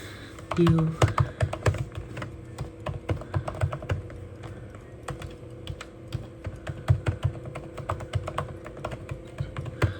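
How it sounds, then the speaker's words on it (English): Fingers type on a computer keyboard, a close, quick patter of key taps with short pauses, and a brief bit of speech near the start. "let me type it out right now."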